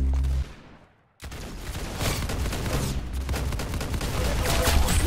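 Gunfire in the Roblox-style shooter Arsenal: a loud burst of shots, a brief drop to near silence, then sustained dense gunfire and explosive bangs continuing to the end.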